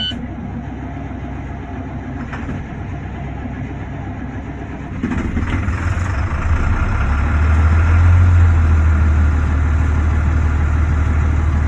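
A Maxxforce DT diesel engine with a newly replaced high-pressure oil pump turns over steadily, then catches and settles into a loud, constant close-up running rumble that grows fuller as it idles.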